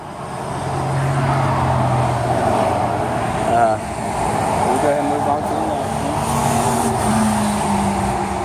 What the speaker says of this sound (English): Excuse the traffic going by.